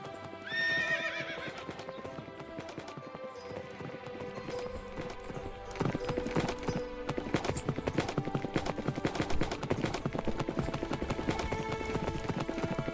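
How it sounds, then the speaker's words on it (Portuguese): Horses in Minecraft Bedrock Edition clop steadily with hooves at close range, joined by an early whinny, the rhythmic hoofbeats growing denser and louder in the second half. "Ah, tem cavalo"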